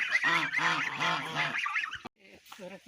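Several farmyard geese honk loudly and repeatedly in close succession, a brief pause, then a few more nasal honks nearby.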